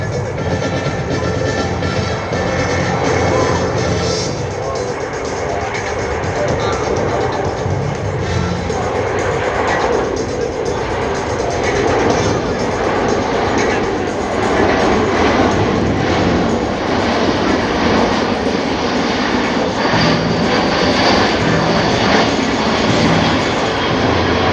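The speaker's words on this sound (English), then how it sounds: "from the left, the slow speed pass from the C-17 Globemaster III." A USAF C-17 Globemaster III makes a slow speed pass at an air show, its jet roar loud and sustained throughout as the big transport flies past.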